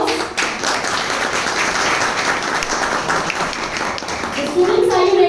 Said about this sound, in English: So, parents, please give them a huge round of applause.